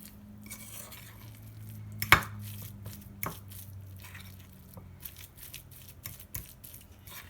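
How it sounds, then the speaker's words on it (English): Wet, squelchy stirring of mayonnaise with a spoon in a bowl, soft mushy scrapes and a few sharp clinks of metal against the dish. "You hear that sound? The squishing sound?"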